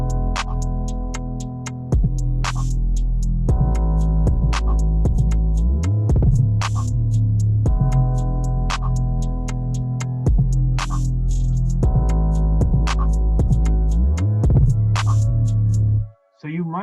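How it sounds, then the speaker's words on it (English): A distorted 808 bass drum from a hip-hop beat, its heavy saturated low boom pulsing in a steady repeating pattern alongside hi-hat ticks and melodic tones, loud and continuous until a brief drop near the end. "you can go all the way to the right and just let the whole 808 be consumed by this amazing effect"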